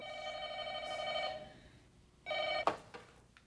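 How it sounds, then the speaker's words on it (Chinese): A telephone bell ringing indoors in two loud electronic bursts separated by a short pause, followed by a sharp click as the handset is picked up. "阿文啊，阿文呀，电话，电话"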